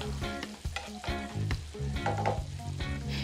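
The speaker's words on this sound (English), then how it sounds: "I'm going to saute some garlic and onion just for about 30 seconds" Garlic and onion sautéing in a pot for a coconut curry fish, a steady close sizzle with clinks and scrapes of stirring throughout, no voices.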